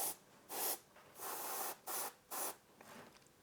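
An airbrush or spray can gives four or five short hissing bursts, each under a second, close by, as paint goes onto a miniature Torchlight Brigade figure from Corvus Belli's Infinity, with quiet pauses between them.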